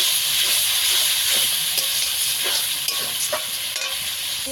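Chili and turmeric paste with a splash of water sautéing in a hot pan for a country chicken curry, a loud, close, steady sizzle and hiss broken by occasional scrapes of stirring.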